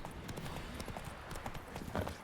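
Horse hooves clip-clopping along a street in The Witcher 3, a steady brisk run of hoof strikes with light background ambience.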